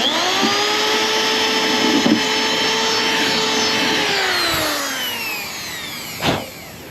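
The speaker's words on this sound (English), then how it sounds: "So let's drill a hole." A power drill bores a hole during work on a 1984 Harley Davidson FLT Tour Glide, a steady close motor whine that holds for about four seconds, then winds down as the bit breaks through, followed by a brief clunk.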